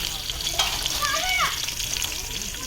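Onions added to hot oil with crackled cumin and fenugreek seeds in a pan, a soft steady sizzle and frying hiss with faint stirring, moderately quiet and continuous.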